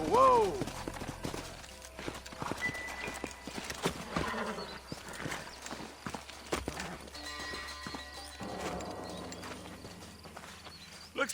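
Horses in the video game Red Dead Redemption, with a whinny at the start followed by steady clip-clop hoofbeats, shouted voices over them and a scuffle of movement, with the hooves fading and returning.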